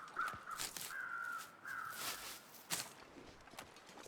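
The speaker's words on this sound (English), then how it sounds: "Listen for bear crows." Crows caw in the wilderness of the survival video game The Long Dark, several separate calls spread over a few seconds against quiet ambient wind, with faint footstep-like crunches between them.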